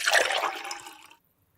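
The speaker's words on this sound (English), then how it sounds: "Bennings pours out 3 drinks." Liquid pours out in a radio drama sound effect for three drinks, a close bright splashing trickle that starts strongly and thins out over about a second before stopping into silence.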